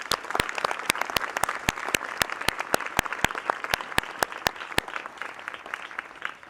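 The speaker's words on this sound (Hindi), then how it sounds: "इनका प्लीज़ आप जोरदार तालियों से स्वागत कीजिए" An audience applauds to welcome a panelist at a senior secondary school education discussion, with sustained clapping and sharp individual claps standing out through the whole stretch.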